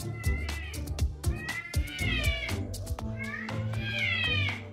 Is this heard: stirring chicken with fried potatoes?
no